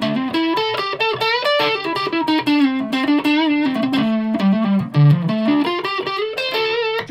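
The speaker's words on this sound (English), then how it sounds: "Wee bit of distortion." A Jet JS-700 electric guitar plays a continuous melodic line with distortion, loud and upfront with no voices.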